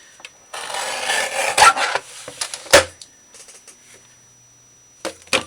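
The edge of a handmade paper accordion file folder is being trimmed, producing close, dry rasping and scraping strokes in uneven bursts, then a few sharper scrapes and taps with pauses between them.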